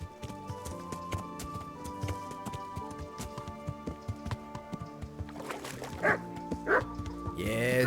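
A dog in the medieval village of the video game Kingdom Come: Deliverance barks a few times over steady background music and horse hoofbeats, with two clearer barks near the end.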